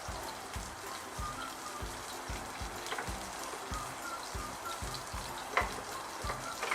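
Tomatoes and olives drop into a pan of sizzling garlic, a steady close frying hiss with regular rhythmic stirring or tossing pulses and a few sharper pops.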